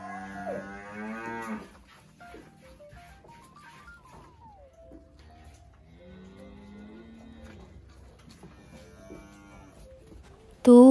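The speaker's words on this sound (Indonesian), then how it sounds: "Tuh, sapinya pada melenguh." A cow moos loudly at the start, then long, drawn-out moos follow from farther off, rising and falling in pitch across a quiet barnyard.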